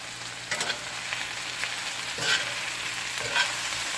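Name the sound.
vegetables being stirred and fried in hot oil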